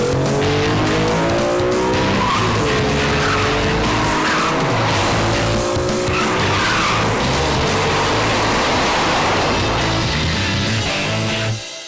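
A BMW 3 Series makes sudden, quick swerves during a moose test, its tires squealing loudly and almost continuously for about twelve seconds. The shrieking skid sits over a steady, roaring engine.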